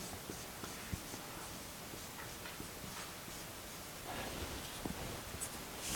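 Chalk or marker scratches across a board during a game semantics lecture, giving faint, scattered writing strokes over steady room noise, with no one speaking.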